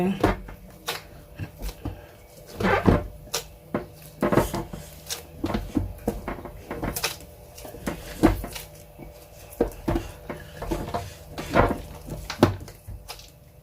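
Hands mix homemade herbal whitening soap ingredients in a container, producing irregular soft squelching and rustling bursts close up, with someone speaking between them.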